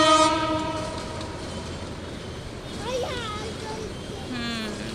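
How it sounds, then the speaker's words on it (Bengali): A freight train creeps toward Kamalapur station while a passenger train speeds past. A loud horn blast opens, then steady rail rumble runs under it with a few brief, distant whistle-like squeals and some speech. "তো দেখুন আরেকটা ট্রেনও কিন্তু ওই যে চলে আসছে"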